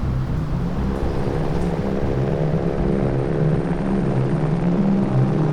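A helicopter carrying a large structure through the mountains produces a steady, loud, continuous rotor and engine drone, unbroken by any speech.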